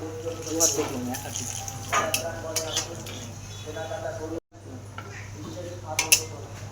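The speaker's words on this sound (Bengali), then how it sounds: "আমার তেজপাতা শুকনো লঙ্কা ভাজা হয়ে গেছে।" Bay leaves and dried red chillies frying in hot oil in a wok, with a steady sizzle and occasional clinks of a spoon against the pan, cooking for a homestyle biryani while a person talks over it.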